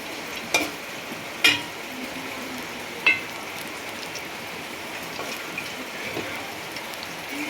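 Aval paniyaram batter frying in ghee on a griddle, giving a steady soft sizzle throughout with a few sharp ticks and pops near the start.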